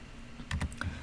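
Keys on a financial calculator are pressed in a quick burst of three or four close, crisp plastic clicks over a quiet background.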